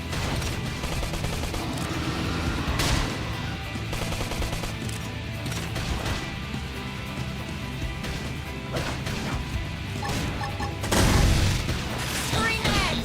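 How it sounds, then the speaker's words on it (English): Flame grenade explosions in the video game Xenoblade Chronicles X, a dense barrage of booms, crashes and rapid gunfire-like bursts over steady battle noise, with one heavier blast near the end. "Off balance. Flame grenade."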